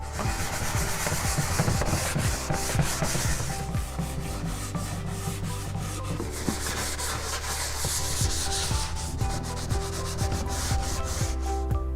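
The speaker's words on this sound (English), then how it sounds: "I'm going to use a medium grit. I'm going to sand this thing down." Medium-grit sandpaper is worked by hand over a rough wooden potato bin, making steady, continuous scratchy rubbing strokes up close, with a low hum underneath and no talking.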